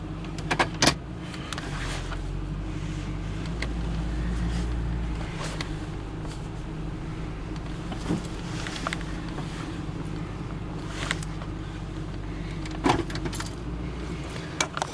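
A 2000 Ford F150 4x4 extended-cab pickup with a 5.4L Triton V8 rumbles in a steady low idle while reversing and moving over, with a few clicks and knocks inside the cab.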